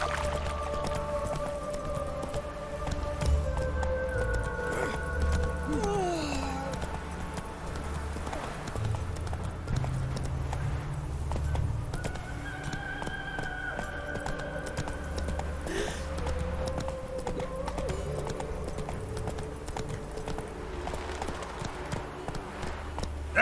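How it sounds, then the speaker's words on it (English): A horse's hoofbeats gallop in The Witcher 3 video game, a steady clip-clop running through the whole stretch beneath game music tones and ambient sound, with occasional voices. "Whoa there, Roach. Slow down, mutants inside"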